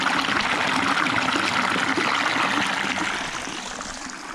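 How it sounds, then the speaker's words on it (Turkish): Water babbling and trickling over stones in a narrow rocky gorge, a steady, close, full rush that eases slightly toward the end, with no voices. "Ve şırıl şırıl akan güzel bir suyumuz var."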